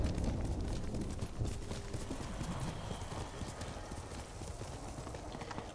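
A horse gallops in the video game Ghost of Tsushima, with steady rapid hoofbeats at close range, fairly loud and continuous with no talk over them.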